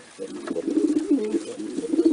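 Several pigeons coo close by in low, rolling burbles, overlapping and continuing steadily with no voices present.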